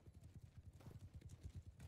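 Horse hooves gallop in rapid, steady clip-clop beats during a Bannerlord online PvP battle, close and continuous with faint background game noise.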